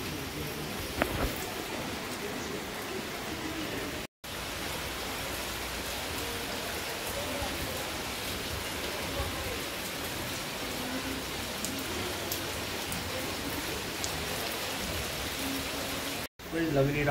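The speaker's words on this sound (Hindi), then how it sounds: "बहुत तेज बारिश हो रही है।" Heavy rain pours down steadily outdoors at night, a dense continuous hiss of drops on surfaces, with a couple of brief cuts and a faint voice in the background.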